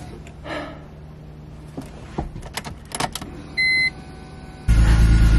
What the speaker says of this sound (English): But the car starts.